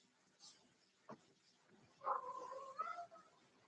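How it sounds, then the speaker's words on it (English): A pet cat meows once, a faint, drawn-out call heard near a quiet room, preceded by a few soft clicks. "that's when my cat starts meowing"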